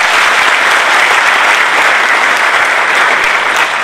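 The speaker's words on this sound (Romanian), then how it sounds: "Și să-l aplaudăm pentru asta." A large crowd at a Romanian National Liberal Party rally in Pașcani breaks into loud, dense, continuous applause that stays at full strength throughout.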